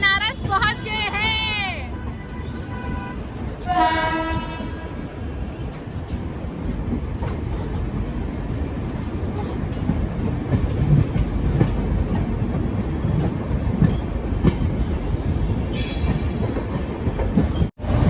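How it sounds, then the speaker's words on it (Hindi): An Indian Railways train in first-class AC arriving at Banaras station, with a steady rumble and clickety-clack of wheels, brief squealing brakes early on, and station crowd babble and someone talking over the noise. "तो ये देखो जैसे वो ट्रेन वहाँ पे खड़ी।"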